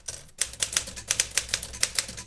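A manual typewriter clacks through a steady run of sharp, close keystrokes, about a dozen bright strikes in quick succession with no voices.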